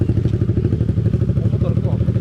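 A dirt motorcycle on a muddy trail in Bulacan, its engine chugging in a close, loud, rhythmic pulse with clattering, steady throughout the short stretch.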